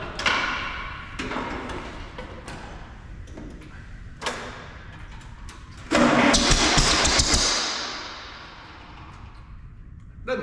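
Allis engine cranking and catching: sharp mechanical clicks and ticks, then a loud burst as it fires around the middle, easing back into a rougher running sound, no talk.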